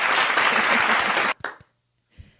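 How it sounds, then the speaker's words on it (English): Applause sound effect dropped into a podcast: a loud, dense wash of clapping for over a second that cuts off abruptly, followed by a few faint clicks and near silence. "What's that clap doing in there?"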